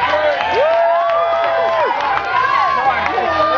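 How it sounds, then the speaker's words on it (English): A live crowd at a Blockhead sideshow performance cheers and whoops with some scattered clapping, loud and close, while a performer's voice calls out over the noise. "give him a round of applause for this work"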